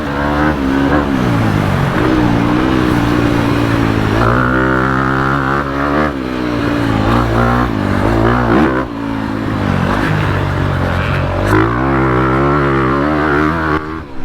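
A 2022 Honda CRF250R four-stroke dirt bike being ridden, its engine loud and close, revving up and down through repeated throttle swells and gear changes for the whole stretch.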